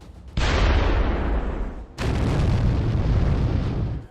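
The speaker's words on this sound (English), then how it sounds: "Powerful explosions hit the front vehicles of the column." Two powerful explosions boom in quick succession, striking the front armored vehicles of a tank column, each a sudden loud blast followed by a long rumbling roar.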